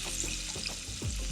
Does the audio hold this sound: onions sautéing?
yes